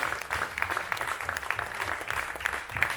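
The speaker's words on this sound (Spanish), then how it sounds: "Levanta ese aplauso al Señor." A church congregation claps in praise to the Lord during a Spanish-language service, an even, continuous stretch of crowd applause with scattered sharper claps and a low murmur beneath.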